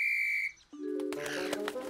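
A short, shrill toy whistle from a children's cartoon sounds alone for about half a second, then gives way to bright, tinkling musical tones.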